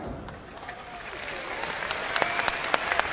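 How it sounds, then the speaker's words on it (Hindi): An audience at an RCM business event applauds steadily, a dense, fairly distant wash of many hands clapping that slowly grows a little louder, with a few sharper individual claps standing out near the end. "इन लोगों की तालियों से इस बात का एहसास होता है कि आपके लिए ये आत्मा से दिल से ताली मार रहे हैं"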